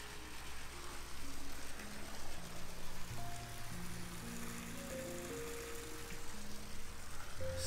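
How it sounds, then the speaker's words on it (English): Backyard pool waterfall at a luxury single-story home in Las Vegas, pouring steadily into the water as a continuous broadband rush with faint background tones and no talking. "But this waterfall is on point."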